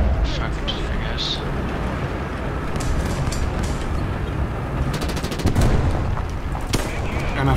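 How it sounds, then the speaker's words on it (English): Rounds from several attackers strike a tank's flank in War Thunder realistic battles, a steady dense clatter of impacts and machine-gun bursts layered over engine rumble, with sharper volleys near the end and a voice talking over it. "Now I'm getting shot in the side."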